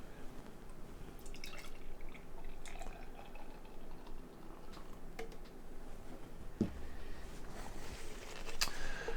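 Hop Butcher peanut butter chocolate stout poured from a can into a glass: a soft, quiet trickle and gurgle of liquid with faint drips and a small clink, continuing steadily for several seconds.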